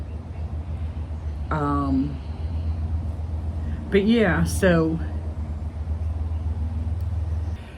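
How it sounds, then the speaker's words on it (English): Road traffic passes outside in the early morning as a steady, low rumble of vehicles heard from a distance, continuous under a woman's nearby speech. "So you can hear some traffic."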